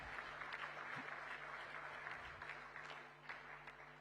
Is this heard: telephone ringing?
no